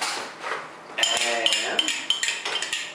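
A metal spoon scooping ketchup into a bowl, a quick series of light clinks and scrapes against the dish, close and moderately loud.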